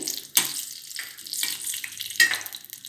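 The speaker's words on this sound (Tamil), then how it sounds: "நான் வந்து மிளகு சீரகம் நல்லா பொறிச்சு எடுத்துக்கிறேன்" Black pepper and cumin seeds frying in hot ghee in a pan, a close sizzle with bursts of crackle and stirring scrapes, no talking.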